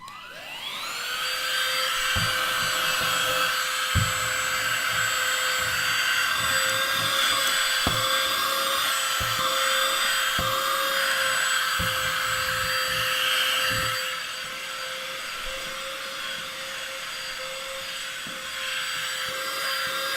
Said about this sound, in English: I better vacuum this up before it gets really out of control.